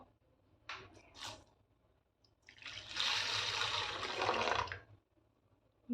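Water pours into a bowl of urad dal set to soak in a home kitchen, a steady splashing gush lasting about two seconds after a few brief trickles, close and moderately loud.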